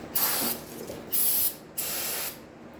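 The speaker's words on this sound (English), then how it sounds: "Then we're gonna pop out our brake cleaner." Brake cleaner sprayed onto small-engine parts during a service, three close hissing bursts of aerosol spray, each about half a second long with short pauses between.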